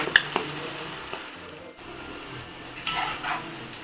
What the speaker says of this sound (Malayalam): ആ ഒരു കിരിയിരിപ്പ് മാറുമ്പോഴത്തേക്ക് നമുക്ക് കോരിയെടുക്കാം